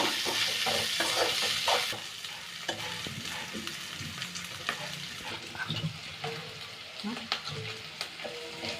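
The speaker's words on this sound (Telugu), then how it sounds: "ఇప్పుడు అల్లం వెల్లుల్లి పేస్ట్ వేస్తున్నానండి. దీన్ని కొంచెం వేగించుకోవాలి, పచ్చివాసన పోయినంత వరకు వేయించుకోవాలి." Ginger garlic paste frying in a pan for a flat beans and potato curry, a steady loud sizzle with repeated scraping stir strokes throughout, no talking.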